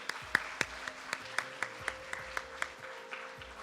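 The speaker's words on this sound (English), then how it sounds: "Let's give them a round of applause." Scattered claps from a small audience at a Hindu primary school graduation ceremony for the class of 2024, sounding as a steady series of crisp, fairly evenly spaced hand claps over a faint background hum, with no talking.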